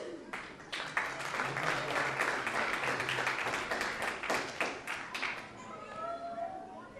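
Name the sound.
audience applause for an award recipient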